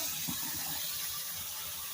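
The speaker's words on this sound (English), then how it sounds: "Make the water flow look pretty." Water runs steadily from a newly installed bathroom sink faucet fitted with an aerator, a smooth even hiss of flow close by with no voices.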